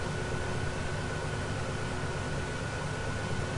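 Steady whining hiss from a tractor's steering as it turns in Farming Simulator 2015, a constant, even noise holding for several seconds with no talk over it.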